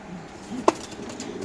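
A pigeon gives a short soft coo while held in hand, with one brief sharper sound mid-clip over quiet background.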